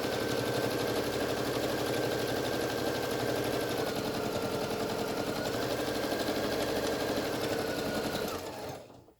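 A sewing machine runs a steady, continuous line of stitching along the fold of a fabric face mask, close and loud with a fast even mechanical buzz, stopping at the end; no voices.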